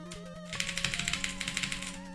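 Keyboard typing, a run of rapid, crisp clicks and taps close by that starts after a brief pause and continues evenly to the end, with a faint tonal hum underneath.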